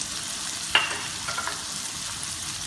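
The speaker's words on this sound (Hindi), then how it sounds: "उनको भी हम 20 सेकंड तक फ्राई करेंगे" Chopped carrots and peas fry over a medium flame in a pan for fried rice, giving a steady soft sizzle with a brief stirring scrape near the start and no talking.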